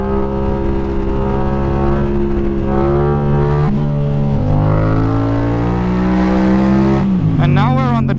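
A motorcycle cruising on the German Autobahn, its engine droning steadily with shifting pitch as speed changes, loud and close throughout, with a rising rev near the end.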